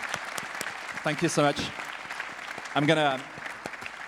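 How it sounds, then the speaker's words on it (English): Audience applause for speakers at a startup event, a steady patter of clapping running throughout beneath a voice speaking at the mic. "give a gigantic, huge round of applause to our speakers today"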